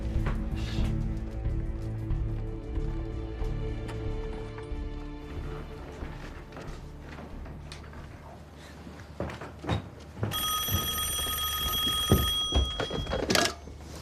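An old telephone bell rings in a Korean War film, a short burst of rapid ringing late in the scene over a low, rumbling background with occasional thuds.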